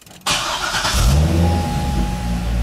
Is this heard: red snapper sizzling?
no